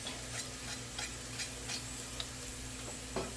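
Food stirred in a pan in a home kitchen, a quiet rhythmic scraping and tapping over a faint low sizzle.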